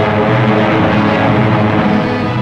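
Steady, loud, droning engine roar of a 1934 B-10 all-metal bomber in flight, a constant propeller-plane hum with no break.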